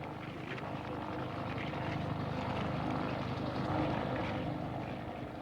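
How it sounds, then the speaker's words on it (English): A relief helicopter drones steadily nearby as it lands in cotton and onion fields outside earthquake-hit Tabas, Iran, its rotor thumping and engine whining in a continuous, loud roar that holds level throughout. "a relief helicopter lands in the cotton and onion fields outside the town"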